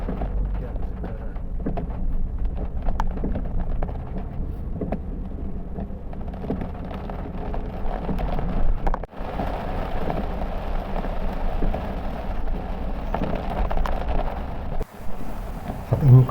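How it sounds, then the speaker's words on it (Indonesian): Heavy rain beats steadily on a vehicle during a road trip on the central Sumatra route from Kisaran toward Jakarta, a constant broadband wash with engine rumble underneath and a few sharp knocks near the end. "Hujannya cukup deras tadi. Sekarang juga masih deras hujannya."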